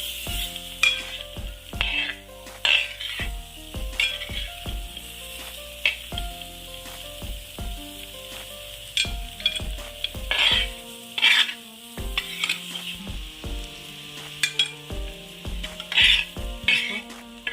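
Gooseberries frying in a pan for a homestyle gooseberry pickle are stirred with repeated scraping strokes over a constant sizzle, while background music plays underneath and no one speaks.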